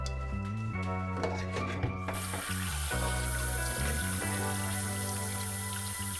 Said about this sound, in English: I'm gonna just rinse them under cold water